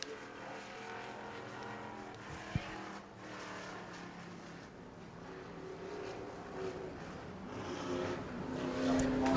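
A Monte Carlo race car runs a qualifying lap at Five Flag Speedway, a continuous engine drone heard from a distance that grows somewhat louder toward the end, with no voices.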